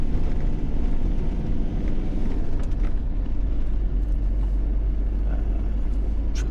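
Steady low road rumble of traffic heard from inside a motorhome on a coastal drive from Ballycastle to Bushmills, a continuous dense drone with faint higher hiss, no talk.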